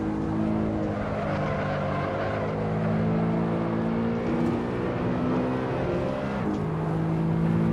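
A BMW E92 M3 race car in the Assetto Corsa racing game, its engine droning loud and steady with shifting tones as it downshifts to slow down, heard alone without talk.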